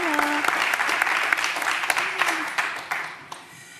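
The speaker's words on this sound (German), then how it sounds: "Ich begrüße euch mit diesem Applaus." Studio audience applause on a Schlager television show, a loud, dense wall of clapping with a few sharper single claps standing out, and a voice briefly heard near the start before the applause thins toward the end.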